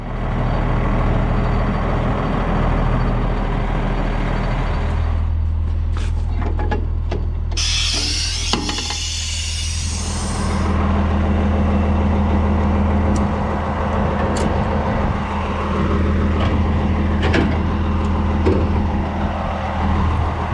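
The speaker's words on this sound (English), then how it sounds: "we're gonna hop in the truck, back it over by the bins, unhook it, and head for Dubuque" A pickup truck idles and rumbles steadily as it backs up toward the bins, a loud continuous engine drone with a brief hiss partway through.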